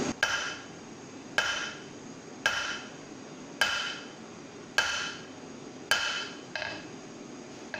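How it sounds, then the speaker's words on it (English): Six evenly spaced hammer blows ring out on hot steel as a blacksmith forges a shoulder with half-on, half-off strikes, each a sharp metallic clang followed by a brief decaying ring, with no talking. "I'm going to isolate a small section and do half on, half off blows with my hammer"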